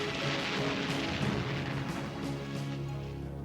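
Heavy, continuous booming rumble of British battleship naval guns opening fire, dense low roar with layered blasts sustained throughout, loud with no speech.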